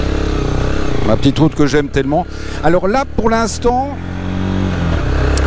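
A motorcycle engine hums low and steady while riding along a small country road, with someone talking over it almost the whole time and the engine coming through between his phrases.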